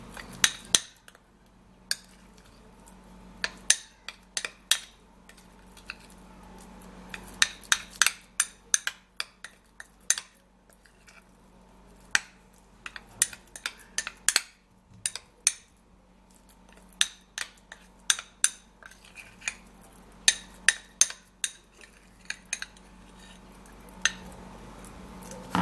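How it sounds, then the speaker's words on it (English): A spoon stirs a facial hair removal mixture in a small dish, giving repeated sharp clinks and scrapes in irregular bursts, close and fairly quiet against a low background hum. "And then we're gonna mix and stir it up really good."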